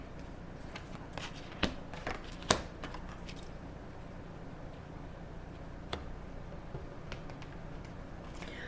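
A tarot deck is shuffled close up in a steady stream of soft papery riffles and flicks, with a few sharper card snaps standing out over the low rustle.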